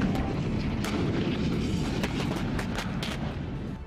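Artillery firing at a live-fire military exercise by an army artillery battalion in the field, heard as a steady dense rumble with several sharp distant cracks and booms scattered through it.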